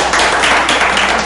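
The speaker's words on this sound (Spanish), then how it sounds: "¡Aplausos!" Dense, loud audience applause at a comedy show, a continuous wash of many hands clapping close by, with no voices over it.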